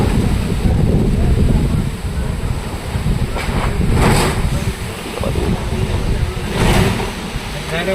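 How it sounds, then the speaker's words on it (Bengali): A strong storm wind roars into the microphone in Simlapal, Bankura, as a loud, continuous buffeting rush with swelling gusts throughout, and faint voices are barely audible beneath it. "এখনও কিন্তু সেই ঝড়ের গতি কিন্তু এখনও রয়েছে"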